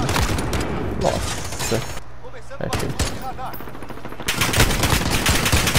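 Rapid automatic gunfire bursts from a multiplayer shooter video game, loud and nearly continuous across the clip with a brief lull, while a player talks over it.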